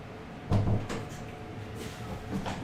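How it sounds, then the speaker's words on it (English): An indoor door swings shut with a single soft thud, followed by faint rattling and a quieter knock near the end, all close by in an echoey room. "I should probably close the door so the cats can't get in."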